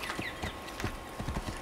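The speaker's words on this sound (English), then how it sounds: "Aw, your horse is all like scared." A horse in Assassin's Creed gives a quick run of hoof clip-clops with a brief whinny-like call, fairly close and moderately loud amid game ambience.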